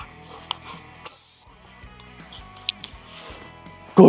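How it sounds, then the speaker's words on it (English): A dog training whistle blown once for recall, a sharp, loud, steady high tone lasting about a third of a second, with faint outdoor rustles and small clicks around it. "I'm going to blow the whistle."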